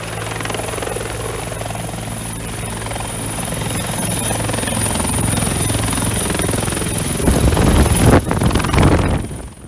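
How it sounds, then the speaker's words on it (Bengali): Cartoon helicopter flying, a loud steady rotor drone that swells and grows rougher toward the end, with no speech. "wow helicopter"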